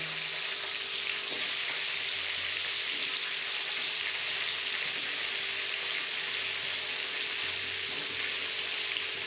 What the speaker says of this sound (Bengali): এখন এই তেলের মধ্যে আমি ক্যাপসিকামগুলো একটু ভেজে তুলে নেব।